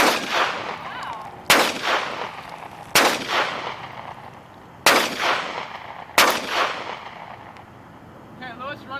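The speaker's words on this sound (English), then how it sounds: "I got 3 more shots and that pumpkin is mine, really quick." Gunshots fired at a pumpkin outdoors, five sharp loud reports spaced about one and a half seconds apart, each with a ringing decay, with a voice faintly heard near the end.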